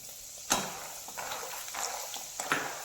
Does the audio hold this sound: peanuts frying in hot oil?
yes